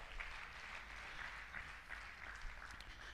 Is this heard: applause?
yes